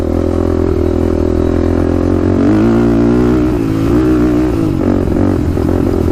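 A Honda 400EX quad rides a bumpy trail, its engine droning loud and steady close by, with rattling clatter and uneven revving as the machine jolts over rough ground throughout.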